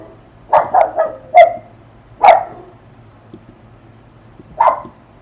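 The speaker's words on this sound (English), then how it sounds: "there's the dog again" A dog barks in a quick burst of four or five sharp woofs, pauses, then gives two more single barks, fairly close with a quiet background and no talking.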